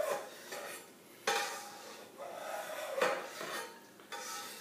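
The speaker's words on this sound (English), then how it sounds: "you really take your knife, put it down into the curd, and slice towards you" A knife slicing through cheese curd in a pot while making simple hard cheese, giving several soft wet swishes and scrapes spaced a second or so apart, faint and close.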